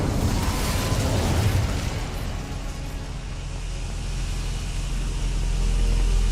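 An Incendio fire spell in Hogwarts Legacy bursts with a dense, rumbling roar that starts loud and close, eases off, then swells again as a continuous fiery rush.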